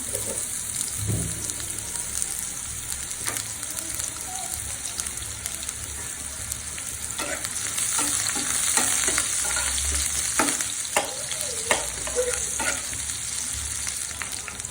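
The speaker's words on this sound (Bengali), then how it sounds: "একটু গোল্ডেন কালার করে আমি করলাটা ভেজে নেব। আমি পেঁয়াজ কুচি দিয়ে দিলাম।" Bitter gourd with chopped onion fries in a generous amount of hot oil, giving a loud, continuous sizzle and crackle. Brief clicks of stirring are heard now and then, with no talk over it.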